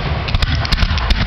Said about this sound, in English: You gotta love those mines, man. They go off the ground level, man.